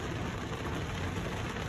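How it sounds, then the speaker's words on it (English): Heavy rain pours down steadily as a dense, even hiss of drops on a surface, continuous and fairly faint, with no voices. "hopefully the rain calms down in the next like 30 minutes, at least to a drizzle"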